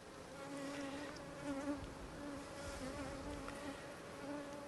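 A dense, steady hum of many honeybees buzzing together in an open hive, continuous and fairly quiet, with no voices.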